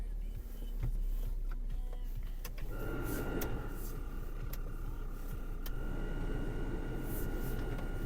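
A Ford Fusion 1.4 engine idles steadily with a constant low rumble and a faint high whine, with a few clicks and a short voice over it.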